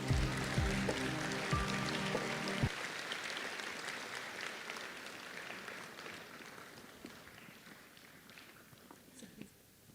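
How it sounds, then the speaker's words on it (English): Audience applause at a formal college event, with a broad wash of clapping from a seated crowd that holds steady and then slowly fades over ten seconds. A brief voice and tone are heard at the start. "Please welcome them with a big round of applause."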